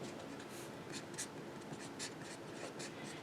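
Pen or pencil scratches across paper in short, irregular strokes while an answer is written out, close and soft with no talking.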